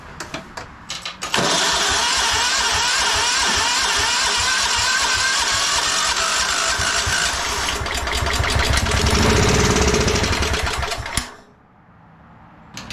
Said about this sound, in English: maybe we can get it to run a little bit off the starting fluid